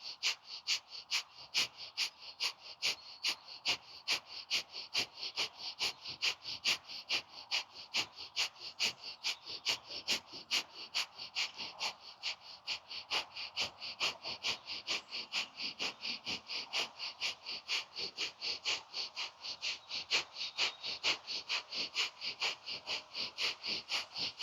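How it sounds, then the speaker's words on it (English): Slow, even breathing during a Kundalini yoga session, a long rapid pulsing series of forceful nasal breaths in steady rhythm, faint and heard alone. "try slowing down this breath. Equal inhale and equal exhales"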